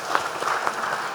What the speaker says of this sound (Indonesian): Ini tepuk tangan untuk angkatan 83 sekali lagi.